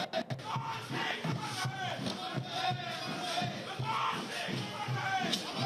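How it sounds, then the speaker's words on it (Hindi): A large crowd at Manmohan Singh's funeral at Nigambodh Ghat chants the slogan "Manmohan Singh Amar Rahe" in unison, a dense, continuous roar of many voices with rhythmic surges, heard from some distance. "मनमोहन सिंह अमर रहे के नारे की गूंज इस वक्त आपको सुनाई दे रही है"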